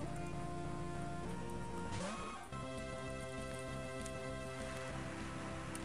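Steady rain falls in the Pokemon Light Platinum video game, a soft constant hiss beneath looping chiptune background music with a brief sound effect partway through.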